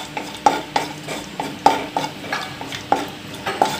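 Cashew nuts being stirred and fried in melted ghee in a pan while making bottle gourd halwa: close, rhythmic scraping strokes of a spoon against the pan, with a soft sizzle underneath.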